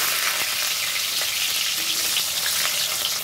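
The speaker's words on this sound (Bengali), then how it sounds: "আলু ভাজা তেলগুলোর ভিতরে দিয়ে দিব পটল" Pieces of pointed gourd fry in hot oil left over from frying potatoes, giving a steady, loud, close sizzle that hisses continuously with faint crackles throughout.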